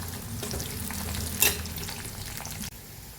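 Rock salt dry-roasts in a pan for pickle-making, a continuous gritty crackling and rustling under stirring, with one brighter scrape midway before it drops a little quieter.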